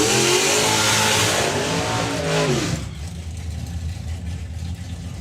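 Drag racing car at the Springspeed Nationals launching and screaming away down the strip, loud and close at first, then receding into fainter engine noise after about three seconds.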